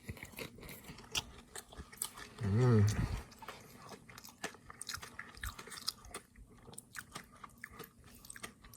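Close, quiet crunching and chewing of a home-baked Porto's flaky cheese roll with caramelized crust, with crisp crackles throughout and a brief hummed murmur of enjoyment partway through.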